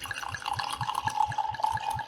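Wine pours into a Cooper's Hawk wine glass with a rapid rhythmic glugging and steady liquid trickle, close and moderately loud, with no talking.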